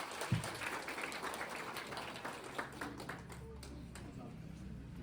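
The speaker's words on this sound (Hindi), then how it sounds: "जोरदार तालियों से इनका स्वागत करें।" An audience at a girls' school cultural programme in Pithoragarh claps to welcome a student performer, giving faint, steady applause that opens with one sharper clap.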